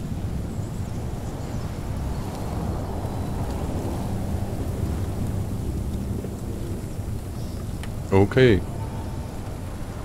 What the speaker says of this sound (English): The storm, that doesn't sound good.